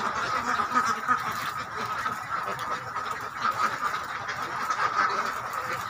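A flock of egg-laying ducks quacking and honking together in a steady, dense chorus at close to moderate distance, calls overlapping continuously with no clear gaps.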